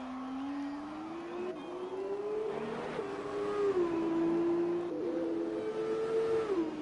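F2 race car engine in an esports racing game at the Monaco Grand Prix, a steady whining tone that rises and shifts through gears as the car passes, alone without talk.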